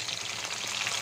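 Chicken pieces fry in a pan as a brief, even, crackling sizzle of hot oil, close and continuous with no voices.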